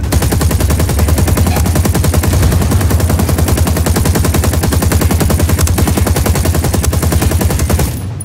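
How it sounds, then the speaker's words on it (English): Sustained gunfire in the video game Ghost Recon Wildlands, enemy Sicarios shooting at an emitter, rapid dense automatic bursts rattling loudly and continuously before cutting off near the end. "Those Sicarios are shooting the hell out of this emitter."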